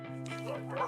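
Dogs at an improvised shelter set up in a house give a brief burst of yips and barks, close by and mixed with people talking.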